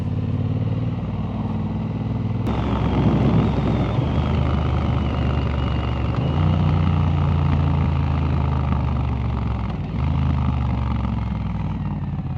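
A vehicle engine with an aftermarket-sounding exhaust drones steadily and loudly, with a sharp rev change partway through and shifting tones as it climbs and settles, close and unbroken by talk.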